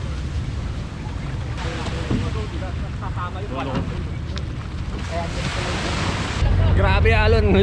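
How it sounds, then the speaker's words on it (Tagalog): Large ocean waves and wind roar steadily around a small boat off Zambales, Philippines, with a boat engine-like rumble and people talking over the noise, growing louder near the end. "Grabe Alon, lalaki na."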